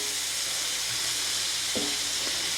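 Onions being coated in butter hiss and sizzle steadily in a pot, a continuous bright fry with a couple of soft stirring knocks and no talk.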